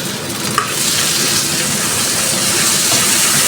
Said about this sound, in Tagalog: Igisa lamang po natin ng maigi hanggang lumambot ang ating kamatis.